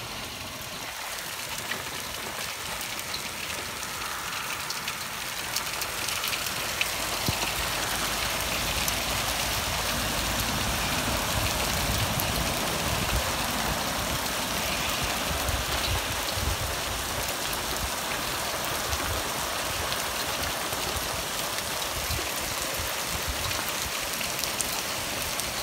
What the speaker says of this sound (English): The hail is pea-sized. It's a bit smaller hail. Pea-sized hail.